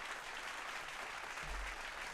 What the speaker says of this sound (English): I'll do the round of applause.